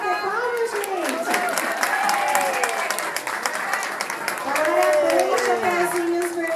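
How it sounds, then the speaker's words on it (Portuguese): An audience claps for a children's play of Little Red Riding Hood with hunters and wolves, steady dense applause throughout, with children's voices and adult calls rising over it. "Vamos bater palmas, gente?"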